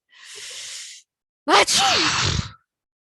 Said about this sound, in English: He feels a big sneeze coming on